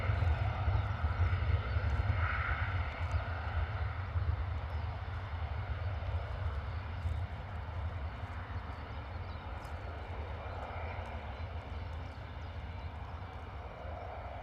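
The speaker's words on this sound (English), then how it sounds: "Lovely EasyJet departure there, looking very, very steady on the climb out" An EasyJet airliner climbs out after departing Bristol Airport in a crosswind, its engines a steady distant roar with a low rumble that fades slowly as it pulls away.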